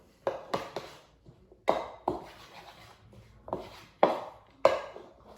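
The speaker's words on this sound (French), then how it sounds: "on mélange le tout." Flour and milk batter is stirred in a bowl, a utensil knocking and scraping in irregular bursts, close and moderately loud, with short pauses between strokes.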